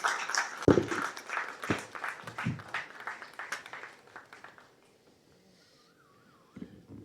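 Scattered applause greets the film's hero as he comes on stage at a launch event, uneven clapping at moderate distance that thins and fades away, with a faint tone lingering afterward.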